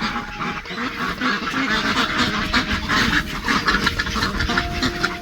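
Ducks quack steadily on a South Korean duck farm, a dense, busy chorus of many birds close by with repeated calls throughout.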